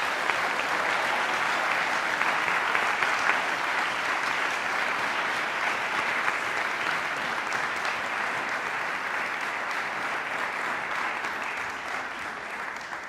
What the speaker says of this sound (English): Could we join for a round of applause?